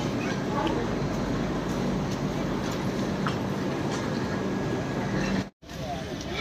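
The Varanasi–Jammu Tawi Express pulls out of a sunny station with a steady loud rumble and rattle of rolling carriages, broken by a brief dropout near the end.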